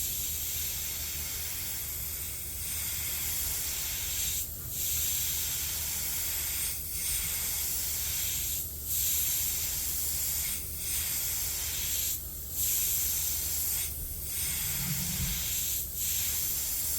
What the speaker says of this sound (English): So just like I say, I'm spraying over the top.